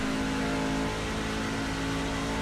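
A Chevrolet Silverado racing truck in iRacing at Charlotte Motor Speedway holds a steady, buzzing engine drone with sustained tones, slightly rising and settling as it revs, loud and alone.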